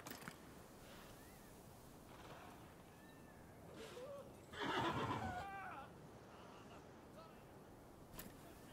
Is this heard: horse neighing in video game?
yes